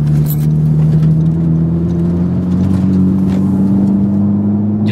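A Honda Civic Type R engine drones in second gear around 3,500 RPM through a turn, a loud, steady interior hum that rises slightly in pitch.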